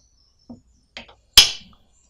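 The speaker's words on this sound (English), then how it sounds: "I like to get a piece of wood, a small hammer, and tap it" Three sharp taps of a small hammer on a piece of wood, the first two light and the last one louder and ringing briefly, spaced about half a second apart with quiet between.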